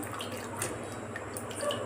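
Water is poured steadily into a vessel to rinse out soil while preparing traditional sesame-flour vadiyalu, a continuous close splashing gush with no one speaking.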